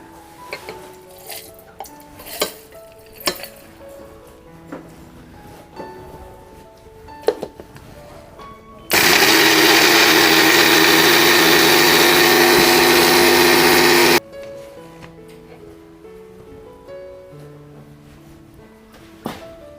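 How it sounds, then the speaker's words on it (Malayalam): A kitchen mixer grinder powders dry eggshells in a loud, steady whir of about five seconds, starting and stopping abruptly, set among quieter clinks and handling noises. "മുട്ടത്തോടൊന്ന് നമുക്ക് മിക്സിയിലൊന്ന് അടിച്ചെടുക്കാവേ"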